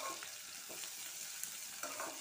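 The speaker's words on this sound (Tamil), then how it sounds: "12 பூண்டு பல் சேர்த்து கலந்து விட்டுறலாம்." Onion and garlic cloves fry in hot oil in a kadai, a quiet steady sizzle with a few soft stirring scrapes, no voices.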